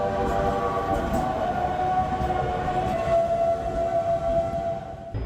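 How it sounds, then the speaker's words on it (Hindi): A heritage train styled as an old steam engine, running between Ekta Nagar and Ahmedabad. It rumbles loudly and steadily nearby while a long whistle tone sounds over it, with no talk. "पुराने स्टीम इंजन की तरह ये ट्रेन भी छुक छुक आवाज करती हुई चलेगी।"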